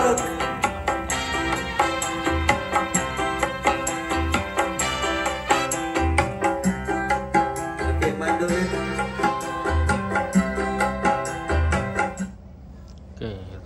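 Music with a steady beat plays through the midrange speaker of a sound system, loud and continuous, with dense harmonic content and regular rhythmic hits, cutting off abruptly near the end.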